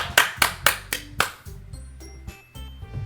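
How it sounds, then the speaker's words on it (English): Scattered applause in the visual novel game Doki Doki Literature Club: about five sharp, separate claps in quick succession over soft music, then the clapping stops and the music carries on. "Natsuki finishes and everyone applauds."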